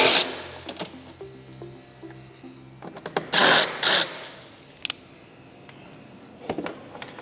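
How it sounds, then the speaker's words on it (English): A power driver backs T25 screws out of the speaker grills on a 2024-2026 Harley-Davidson Street Glide Ultra, giving short whirring bursts with pauses between them and a few light clicks of loose hardware, close up with no talking. "So we'll take the screws out first."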